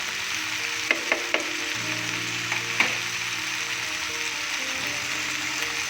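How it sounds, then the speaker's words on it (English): Masala poha with turmeric and biryani masala fries in a pan, a steady close hiss and crackle running throughout while a spoon stirs, giving a few quick scraping clicks early on and no voices. "Stir it well."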